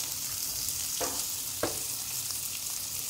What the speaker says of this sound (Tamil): மீடியம் ஃப்ளேம்லயே வச்சு வதக்குங்க